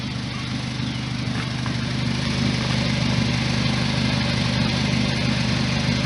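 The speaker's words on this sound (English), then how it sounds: "That's what it sounds like." A 2006 Suzuki Aerio with a cheaply repaired broken exhaust system idles steadily, a loud close low drone with a buzzy rasp that holds without change.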